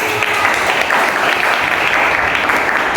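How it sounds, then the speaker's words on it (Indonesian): A school class claps together during a lesson, a dense steady patter of hands that stays even and fairly loud for a few seconds without pause. "Jadi tepuk tangan untuk kalian."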